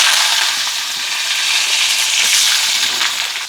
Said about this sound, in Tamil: கொஞ்சம் எண்ணெய் கொதிச்சுட்டுது. கொஞ்சமாக கடுகு போடுறோம்.